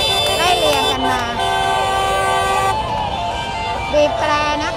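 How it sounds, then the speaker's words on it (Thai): Car horns honk repeatedly at a car mob protest in Thailand, with several horns overlapping in a dense, continuous blare close by over traffic noise and crowd voices. "บีบแตรนะคะ"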